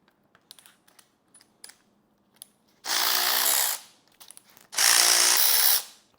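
Two sustained bursts of a power tool, likely a drill or impact wrench, spinning off 5/8 rocker arm nuts on a C4 Corvette engine, close and loud, separated by small clicks and handling taps.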